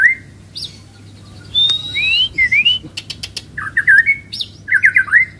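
A songbird at a bird-selling kiosk sings close by in bright whistled chirps and short trilled phrases, delivered in scattered bursts with brief pauses over a low steady background hum.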